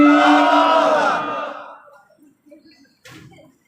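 A crowd at a Bengali waz mahfil gathering roars back in unison after a Nara-e-Takbir call, a loud massed chant that fades out within about two seconds, followed by faint murmurs and a brief noise.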